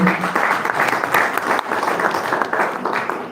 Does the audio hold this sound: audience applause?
yes